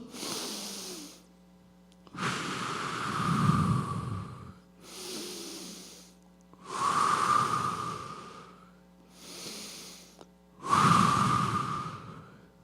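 Rhythmic group breathing exercise in a four-count pattern: slow audible inhales and exhales alternate with short silent holds, several breaths in steady cycles, fairly close and soft.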